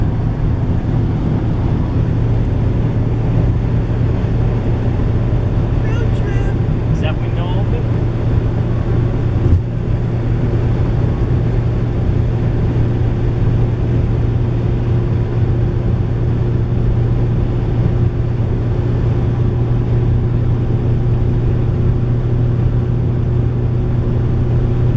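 Mercedes van cruising at about 180 km/h on a German Autobahn, a steady, loud interior road and engine drone with wind rush, continuous throughout with faint brief clicks.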